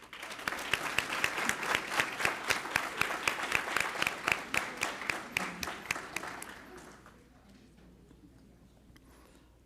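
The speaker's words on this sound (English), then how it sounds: "Let's give these young scholars a round of applause for their remarkable achievement." An audience at a school board meeting applauds young scholarship winners with sharp, rhythmic clapping that is loud at first, then thins out and fades to scattered claps.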